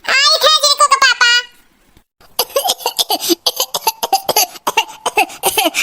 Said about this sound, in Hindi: अरे राम होता ना खांसी आवत है